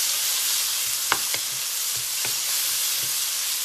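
Blanched shiitake mushrooms stir-fried with green beans in a vegetarian dry-fried dish give a steady, close sizzle, broken by a few sharp clinks of the spatula against the wok.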